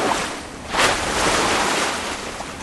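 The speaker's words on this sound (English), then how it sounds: "Waves are hitting us on the beam and it's just really uncomfortable." Rough sea waves slap against the hull of a sailboat in the Sea of Cortez, giving a loud, steady wash of water and wind with a surge near the start.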